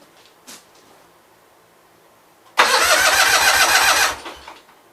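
A Gravely 8199 garden tractor engine, sprayed with carb cleaner, cranks loudly for about a second and a half in a steady churning burst after a quiet pause, then stops without catching.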